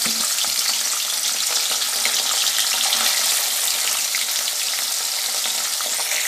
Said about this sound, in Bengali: তেলটা আমার গরম হয়ে গেছে। এবার হাতটা সাবান দিয়ে ধুয়ে এসছি, আর হাত লাগাবো না মাছে। মাছগুলো ভেজে নিচ্ছি।